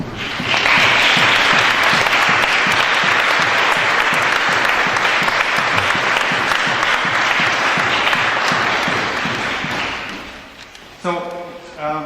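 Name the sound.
audience applause welcoming Hazel Marie and Peter Bull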